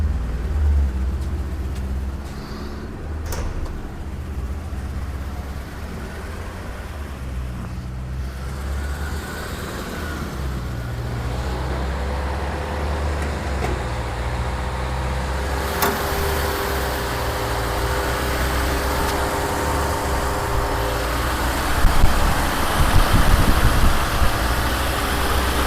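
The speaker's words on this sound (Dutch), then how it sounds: "En hij rent een beetje heen en weer op benzine." A 1979 Mercedes 500 SE V8 with its rear muffler deleted runs on petrol, giving a steady, close, low rumbling idle that continues throughout with slight swells near the end.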